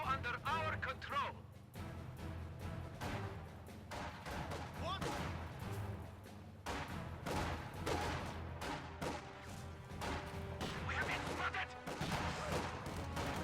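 A video game battle with a PTRS anti-tank rifle and a DP machine gun firing: dense, continuous volleys of shots and impacts with heavy rumbling crashes layered throughout.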